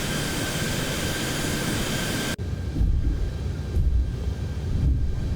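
In the X-Plane 11 flight simulator, a Southwest Airlines airliner's jet engines roar steadily while taxiing, then drop sharply to a lower, softer rumble with faint swells.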